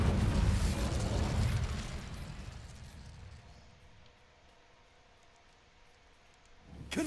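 A fire spell cast in the Hogwarts Legacy video game: a loud whooshing, roaring burst of flame that fades over a few seconds into quiet, with a fresh burst swelling up at the very end.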